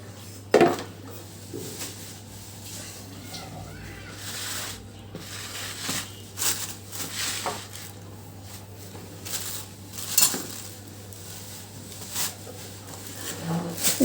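Baim eel fish being cut up inside a bowl, with scattered knife taps, soft wet squishes and occasional clinks of utensils against the dish, close by over a steady low hum.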